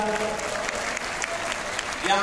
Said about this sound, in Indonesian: tepuk tangan untuk Ibu Lia